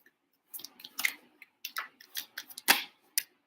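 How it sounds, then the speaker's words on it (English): Tarot cards shuffled by hand in a quiet room, a run of soft papery riffles and flicks in short irregular bursts, close and fairly faint, with no talking. "I'm going to put this back, shuffle once more."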